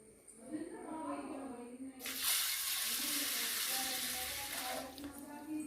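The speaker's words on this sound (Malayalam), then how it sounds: "ഇതിലേക്ക് ഇനി ഇത് വേകാനുള്ള ആവശ്യത്തിനുള്ള വെള്ളം ചേർത്ത് നമുക്കിത് വേകാനായിട്ട് വെക്കാം" Water poured from a vessel into a pressure cooker holding green gram, a broad splashing rush starting about two seconds in and lasting roughly three seconds, close and fairly loud, with a person talking before and during the pour.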